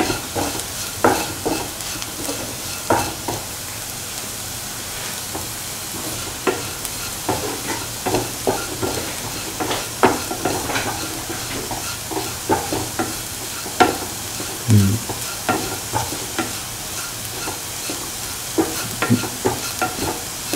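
Boiled potatoes are mixed by hand with salt, asafoetida, mustard seeds, chilies and a ground spice mixture for a pickle, giving steady squishing, rustling stirs with soft repeated knocks throughout.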